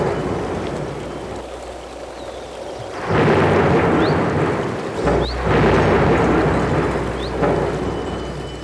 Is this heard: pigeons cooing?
no